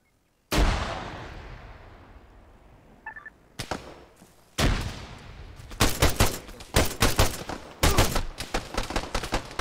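Heavy Arma 3 firefight: a loud close blast with long rolling decay, then bursts of rapid automatic fire and more single shots coming in quick clusters, loud and near, with no talking over it.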